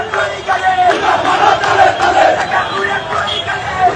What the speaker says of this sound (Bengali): ওনার সমর্থকেরা রাস্তা অবরোধ করে বিক্ষোভ করতেছে, দেখেছেন স্লোগান দিচ্ছে কি দেখেন